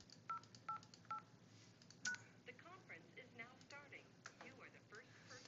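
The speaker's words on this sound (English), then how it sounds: "I have to dial my participant code" Telephone keypad DTMF tones punching in a participant code for a conference bridge: three short even beeps, then a fourth after a pause, followed by faint voices from the line.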